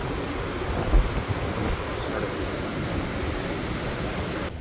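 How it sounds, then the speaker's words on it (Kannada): Cauvery River water, joined by water released from Harangi Dam, rushes below the dam near Chunchanakatte Falls as a steady, broad roar that stays even throughout, with no voices. "ಇದು ಆರಂಗಿ ಡ್ಯಾಮು ಮತ್ತು ಕಾವೇರಿ ನೀರು ಎರಡು ಸೇರಿಬಿಟ್ಟು ಬರ್ತಾ ಇರೋ ನೀರು ಇದು."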